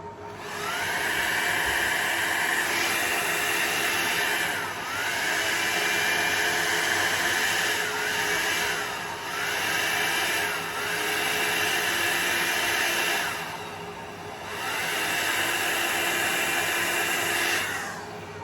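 Air blower drying alcohol ink, speed set by a foot pedal, giving a loud steady whooshing hiss that swells and eases in several waves as the pedal is pressed and released, with no voices.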